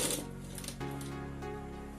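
A sewing machine stitches a seam to attach a shirt collar. A close, steady motor drone with a rapid even needle rhythm runs for about two seconds without a break.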